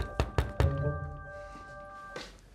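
Three sharp knocks on a door in quick succession sound near and firm over a steady electrical hum, followed by a quieter thump a moment later.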